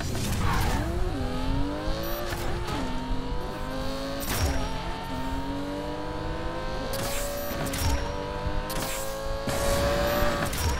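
A Lamborghini races in Need for Speed Payback, its engine revving in rising, repeated gear-shift sweeps, with tire squeals and brief impact bursts throughout; loud and continuous.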